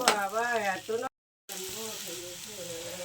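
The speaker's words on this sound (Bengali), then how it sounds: "এবার চিংড়ি মাছটা দিয়ে আর একটু ভেজে নেব বন্ধুরা।" Shrimp frying in a pan with chili powder, cumin, turmeric and salt gives a steady close sizzle, broken by a short silent gap, while a voice talks over the first part.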